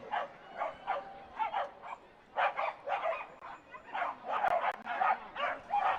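Corgis bark and yip in quick repeated bursts at a dog race at Canterbury Park, a lively, fairly close chorus of short rhythmic barks with brief pauses, no talking over them.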